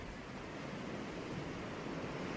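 Ocean waves wash steadily onto a beach in a soft, continuous broadband rush with no distinct breaks and no voices.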